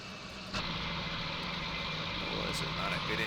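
A tractor engine in a farming simulator video game hums steadily at low pitch, with a sudden step up in level partway through, continuing evenly to the end.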